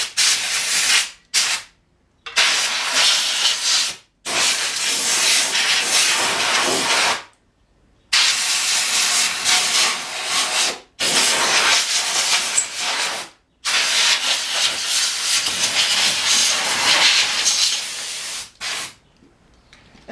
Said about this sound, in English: I sprayed the bottom of this with some of that Harbor Freight Solution 50/50